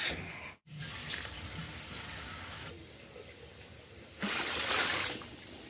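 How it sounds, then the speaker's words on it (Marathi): A household water tap turned on at full flow, giving a steady close rushing hiss throughout that briefly cuts out near the start and grows louder and brighter near the end, with no talk. "नळाला फुल चालू केलं"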